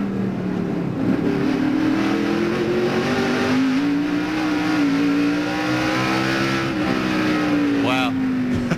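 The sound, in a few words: A NASCAR race car engine, in-car view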